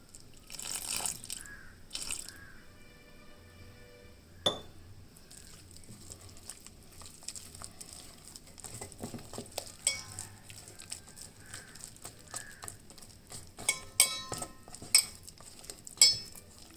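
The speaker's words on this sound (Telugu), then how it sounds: "ఇంకా వాటర్ పడుతుంది. ఇలా కలుపుకుంటాం" Bajji flour batter for Andhra-style mirchi bajji being mixed with water by hand in a bowl: wet squelching, soft splashes and occasional clinks of a utensil against the dish, close and fairly quiet, with no talking.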